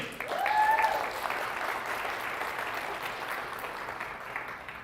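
Sustained applause from a crowd at a fundraiser breakfast fills the room, strongest in the first second and then holding at a steady, moderately loud level throughout.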